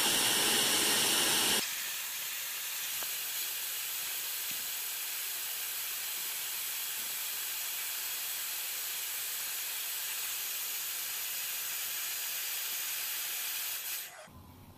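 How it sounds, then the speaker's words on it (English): An air pump steadily blows up the inflatable lid of a SaluSpa hot tub, a continuous hiss that runs unbroken for over ten seconds after a louder opening burst, then cuts off. "Here we go, blowing up the lid."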